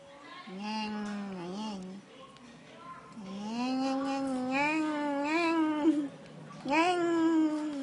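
A cat meows during a visit to the vet, giving three long, drawn-out, wavering yowls close by, each loud and rising and falling in pitch, with brief pauses between them.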